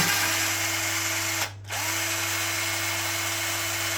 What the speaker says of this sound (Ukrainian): На цьому етапі вже шуруповертом все.